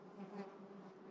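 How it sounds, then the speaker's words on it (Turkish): Large black houseflies buzz close by outdoors along a walking route, a continuous faint droning hum with small swells in loudness and no talking. "20 tane kara sinek, koca sinek."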